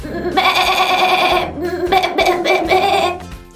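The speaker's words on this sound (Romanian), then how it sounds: "O oaie." Sheep bleating loudly in repeated, wavering calls one after another, sounding close and filling the whole stretch with little pause.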